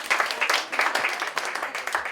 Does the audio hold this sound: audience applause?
yes